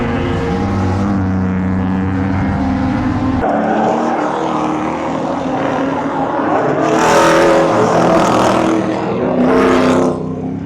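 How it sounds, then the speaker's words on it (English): Race cars at the Goodwood circuit roar past, engines rising and fading as each car sweeps by, loud and close at first, then a couple of sharper passes near the end. "hopefully that's going to work well with the race cars out here"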